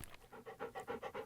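Dante the dog pants quickly and softly at close range, about eight rhythmic breaths in just over a second.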